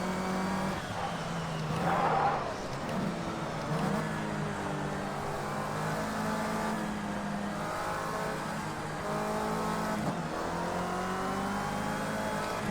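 A race car in the Project Cars 2 simulator career mode revs up and down through gear changes with tyre squeal and rising and falling engine pitch, loud and close throughout.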